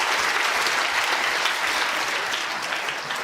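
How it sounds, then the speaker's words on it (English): An audience breaks into applause for Louise Kenny at a food-science talk, a dense, sustained clapping from a full room that holds steady before easing slightly at the end. "Big round of applause"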